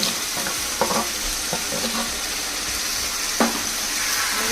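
Cooked rice tumbles into a frying pan and is mixed through, giving a steady close sizzle with a few distinct scrapes and knocks of the spoon.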